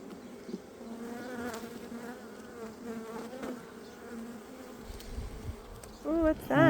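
Honeybees buzz around an opened hive during a beekeeping inspection, a steady close drone with a few louder passes near the end.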